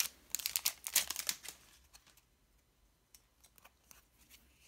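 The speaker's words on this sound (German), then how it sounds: "Öffnen wir jetzt die letzte Booster-Tüte." Foil booster pack of LEGO Ninjago Series 2 trading cards being torn open, with close, bright crinkling and tearing strongest in the first two seconds, then quieter scattered rustles and card shuffling.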